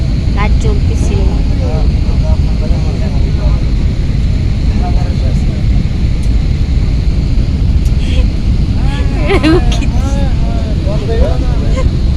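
A loud, steady roar of an airplane landing in Dhaka, Bangladesh fills the clip, with people talking over the constant engine and cabin noise.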